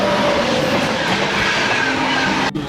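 Howrah to Digha local train running, a loud, steady rumble of wheels and carriages heard from on board, with a faint squeal and a brief drop near the end.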